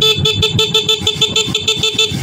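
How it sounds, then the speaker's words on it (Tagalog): The stock horn of a Honda ADV 150/160 scooter honks in a rapid pulsing series of loud, buzzy beeps at close range with no pauses. "Ayan, ito yung natin, sample ng stock horn natin."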